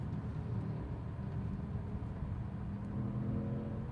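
Steady low engine rumble and road noise from a BMW sedan being driven, continuous and fairly close throughout with no talking.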